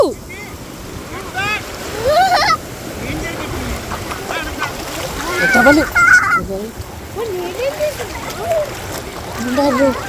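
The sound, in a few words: sea waves splashing at beach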